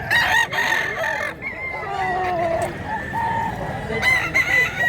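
An old rooster crows repeatedly, its long, loud calls ringing close by in an outdoor setting, with faint background noise between crows.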